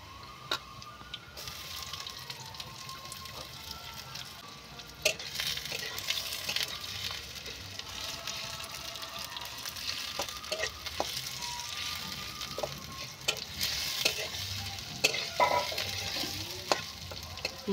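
Sliced onions tipped into a pan of oil with garlic already fried red, sizzling and crackling steadily up close while a utensil stirs and taps the pan, with no talking.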